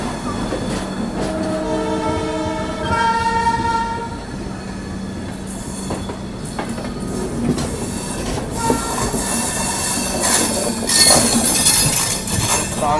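Konark Express passenger train rolling out of Vijayawada, heard from aboard with a steady loud rumble, wheel squeal and rhythmic clatter, plus a horn sounding during the run.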